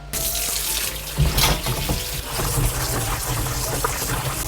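Tap water runs steadily into a sink while deodeok roots are scrubbed clean of soil, a close, continuous splashing gush with shifts in tone as the roots move under the stream, and no talking.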